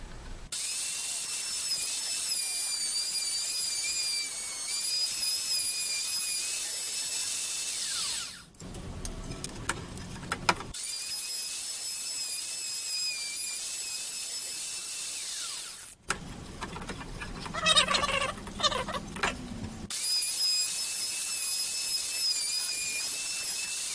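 A router takes off the top thickness of a custom ES-335-style guitar body, a steady high-pitched machine whine with tonal overtones that runs close and loud, broken by two brief pauses.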